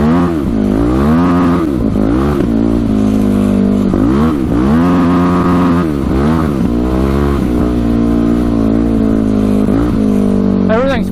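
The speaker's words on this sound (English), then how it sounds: "Hitting that rev limiter." A modded race quad engine repeatedly hits its rev limiter while churning through deep snow, producing a loud, close, continuous buzzing roar that wavers rhythmically and stays steady throughout.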